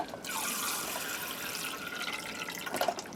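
Water poured from a cup into a container to dilute hydrogen peroxide at nine parts water to one, a steady close splashing trickle running the whole time with no talk.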